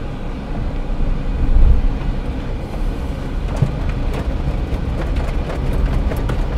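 A Mahindra e20 Plus electric car driving along, giving a steady low rumble of road and tyre noise with a few faint knocks, even and moderately loud throughout, with no talking.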